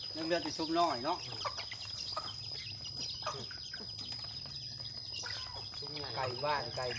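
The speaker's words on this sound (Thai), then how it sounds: "ไก่บ้านไก่บ้าน" Village chickens kept in a rural yard cluck and squawk nearby in a busy, overlapping flock, with chirps and a steady insect whine behind them and a person talking on and off.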